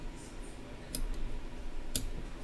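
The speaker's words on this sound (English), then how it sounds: "now I'm gonna use my scissors and snip off" Scissors snip off excess thread while tying a tube fly, giving two sharp, brief clicks about a second apart over quiet background hiss.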